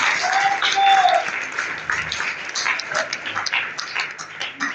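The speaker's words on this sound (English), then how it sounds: "Let's give the Lord a clap offering" A church congregation claps together as an offering of praise to the Lord, a lively burst of applause that swells early and then thins into scattered claps, with a brief whine like a dog's whimper near the start.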